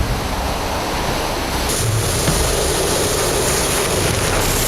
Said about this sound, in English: Three tons of H2O smashed into our makeshift shelters.